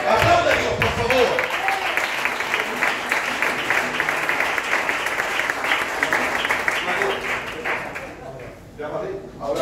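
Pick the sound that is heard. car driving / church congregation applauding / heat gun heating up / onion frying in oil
church congregation applauding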